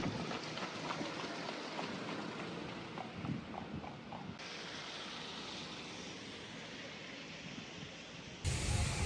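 Heavy rain pours steadily on a flooded street in Varadero, Cuba, a dense continuous hiss with faint splashes and patters throughout and no talking.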